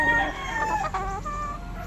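A claret broodcock rooster crows close by, a harmonic, wavering cock-a-doodle-doo that runs nearly two seconds over a faint farmyard background.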